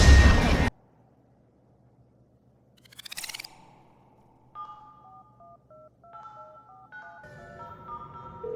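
A telephone keypad dials a sequence of short, clean beeping tones, each at a different pitch, after a loud burst and a quiet stretch with a brief buzzing flutter.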